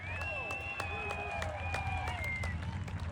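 Audience applauding at a car show during a cheap car challenge, a fairly distant wash of clapping with scattered sharp claps and cheers, with an announcer speaking over the crowd.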